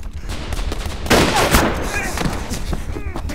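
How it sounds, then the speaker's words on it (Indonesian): Sniper gunfire in a film battle scene: a burst of sharp, loud shots and impacts amid dense action noise, with brief cries in between. "mereka mulai menembak tapi tidak ada yang tepat sasaran"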